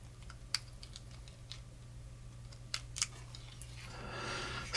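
Sparse, faint plastic key clicks come from a Sharp PC-1211 (TRS-80 PC-1) pocket computer whose keyboard works only intermittently. Irregular single taps sound over a low steady hum, followed by a rising rustle at the end.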